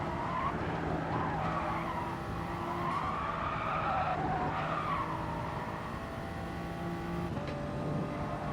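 Race car tires squeal and skid through a long slide in Gran Turismo Sport, a sustained screech over a steady engine drone, loud and continuous with no talking.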